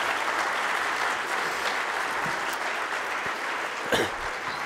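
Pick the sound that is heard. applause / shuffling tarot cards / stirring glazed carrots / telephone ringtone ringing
applause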